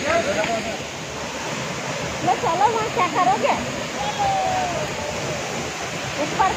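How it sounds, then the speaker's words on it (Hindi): A temple waterfall rushes in a steady, broad roar close by, while people talk over it. "मंदिर में झरने के नीचे आप देख सकते हैं यहाँ पर"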